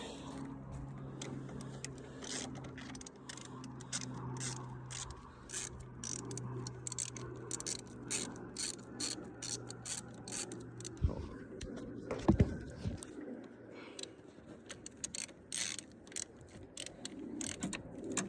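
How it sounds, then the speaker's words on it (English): A ratchet clicks in quick bursts while loosening 10 mm battery terminal bolts on a Ford Transit Connect, up close, with someone speaking intermittently between the clicks. "we gotta loosen up all those bolts so we can get there"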